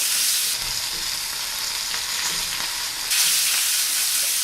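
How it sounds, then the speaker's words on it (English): Garlic sizzling in a frying pan alongside steak: a loud, dense, continuous crackling fry that briefly softens, then swells again as more hits the hot fat, close and without talk. "I'm going to take that last garlic that I had, that last half, I'm just going to toss it in the pan right now."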